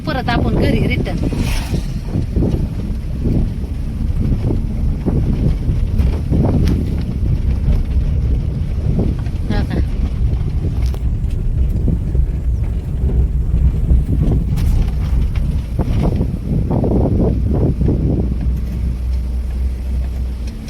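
A car driving along with a steady low road rumble and wind buffeting the microphone throughout, while voices come and go over the noise.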